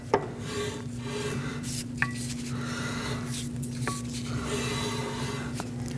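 Rear drum brake shoes on a Lexus IS250 scraping against the rotor as it turns, a steady rasping rub with faint periodic clicks and a low hum underneath, close and fairly quiet, no talking.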